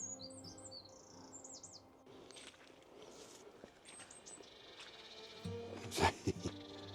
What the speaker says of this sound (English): Blue tit's up here in the pine somewhere.